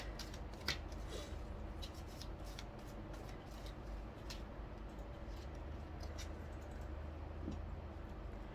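Tarot cards are shuffled in a steady, faint, continuous riffle with small ticks and flicks, recorded close over a quiet room hiss.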